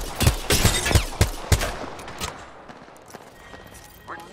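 Rapid gunfire in the Apex Legends battle royale game, a run of sharp close shots in quick succession for about two seconds, then fading into softer game ambience and mechanical clatter.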